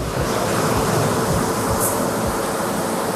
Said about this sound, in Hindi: ये वॉटरफॉल टाइप फाउंटेन है